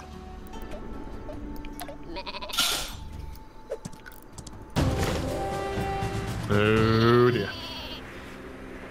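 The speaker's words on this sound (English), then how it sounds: "Is that super sheep farting rainbows?" Cartoonish sheep bleats from the super sheep weapon in Worms WMD, a wavering bleat rising near the end after several crashing game effects, with a voice speaking briefly.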